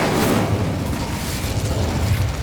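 Confringo blasting spell going off in the video game Hogwarts Legacy, a dense rumbling boom with low-end roar that stays loud and sustained throughout, with no talking.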